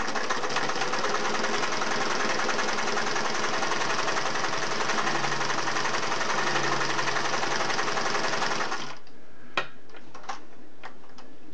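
A Singer 401A sewing machine runs a straight stitch through material other than cloth, a loud, even mechanical whir with rapid ticking for about nine seconds, then stopping, followed by a few faint clicks.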